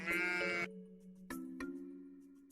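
Sheep bleat in a field as a flock heads out to graze, a loud close bleat up front followed by shorter, softer calls against a steady low hum.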